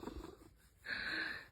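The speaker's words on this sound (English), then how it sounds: "You hear those purrs?" A chunky adopted cat purrs softly up close, a low rumble followed by a brighter, breathier stretch of purring, with no voices.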